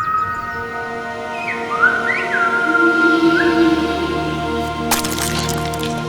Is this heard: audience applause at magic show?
no